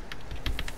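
Quick keystrokes on a computer keyboard, about half a dozen sharp clicks in under a second, close and fairly quiet, with no talking.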